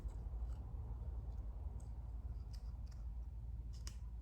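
Small scissors snip repeatedly while a card model kit of a bookshop is assembled, several crisp, close cuts at irregular intervals over a quiet room hiss, with no one speaking.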